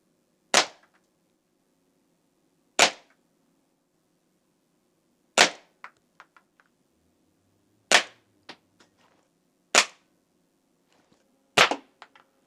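Six sharp air rifle pellet shots strike a target about 6 meters away, spaced a few seconds apart, each a crisp crack followed by faint metallic ticks, close and with no talk.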